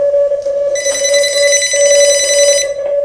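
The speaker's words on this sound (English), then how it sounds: "Well, we got a phone call." A telephone bell rings in a ham radio station, one continuous loud electronic trill lasting about two seconds over a steady tone, then stopping.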